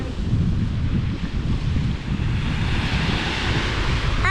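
Atlantic Ocean surf breaking on a beach, a loud continuous wash of waves buffeted by heavy wind noise across the microphone throughout.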